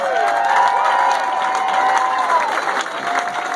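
A large crowd at a political rally in Virginia claps and cheers loudly and continuously, with whoops and shouts rising over sustained applause throughout.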